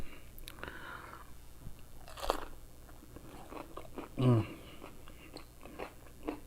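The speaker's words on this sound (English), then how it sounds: "The crunch, the carrots, the cucumber, the herbs." A crunchy spring roll filled with carrots, cucumber and herbs and dressed with sriracha is bitten with one loud, close crunch, followed by softer chewing crackles. A person talks briefly around the bites.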